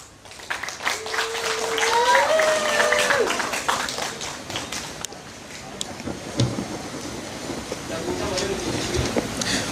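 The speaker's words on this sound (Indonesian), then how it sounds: "Mari berikan tepuk tangan" Audience applause at a school poetry reading contest at a literary festival, a broad burst of clapping mixed with a voice carrying a melodic tone early on, then thinning into scattered claps and room noise.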